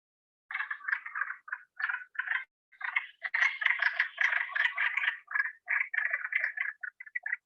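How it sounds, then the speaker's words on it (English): A chorus of frogs calls steadily, overlapping clucking, quack-like croaks building into a dense chatter with no other sounds. "It sounds like a bunch of quacking ducks."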